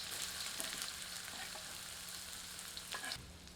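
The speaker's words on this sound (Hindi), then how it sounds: "प्याज को मध्यम आंच पर तब तक भूनते हैं जब तक कि इसका रंग सुनहरे से भूरे के बीच में नहीं आ जाता" Onions frying in a pan with Guntur chillies and curry leaves over medium heat for a chicken masala, a steady close crackling sizzle with occasional stirring scrapes and pops, no talking.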